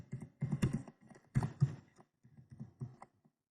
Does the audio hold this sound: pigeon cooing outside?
no